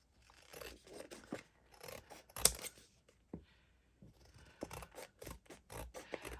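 Scissors cutting through a greeting card, a series of close, crisp snips and scraping crunches in irregular bursts with brief pauses, fairly quiet.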